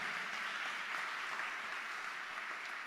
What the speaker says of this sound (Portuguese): Vamos dar uma salva de palmas a essa palavra